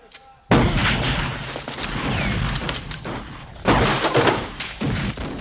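Gunfire in a film set in a hot, sun-drenched outback wilderness, with loud booming shots and heavy bursts of firing that come in two sustained loud stretches, nothing quieter between them.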